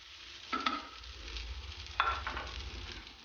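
Chaufa fried rice with sesame oil is stirred in a frying pan, with two distinct scrapes of a utensil against the pan over a soft, low, steady sizzle.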